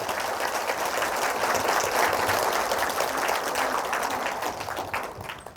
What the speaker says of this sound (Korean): 우리 스스로에게 큰 박수 한번 부탁드립니다